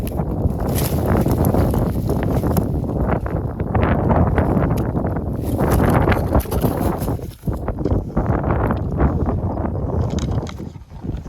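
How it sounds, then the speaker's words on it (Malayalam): Strong wind blowing outdoors by the water, a loud, steady rush of microphone-buffeting gusts that roars almost without pause, close and without speech. "നല്ല കാറ്റടിക്കുന്നുണ്ടല്ലേ"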